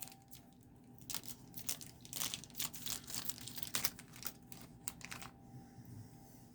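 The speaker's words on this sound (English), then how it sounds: "They come in bags like this and they're separated. So let's go ahead and cut these open." Plastic bags of small 3D-printed 1/64 scale shop supplies being cut open, a run of crinkling and snipping that starts and stops unevenly, close up and fairly quiet, with no talking.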